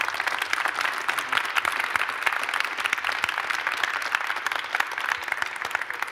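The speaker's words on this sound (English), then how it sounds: "Can we give all of our panelists a round of applause for their efforts?" An audience at an automotive engineering colloquium applauds its panelists, a dense, even patter of many hands clapping that holds steady from start to finish with no talking.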